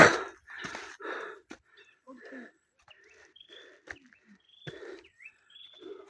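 Short bright bird chirps and tweets scattered through the clip, some close, mixed with brief human vocal sounds and breathy noises.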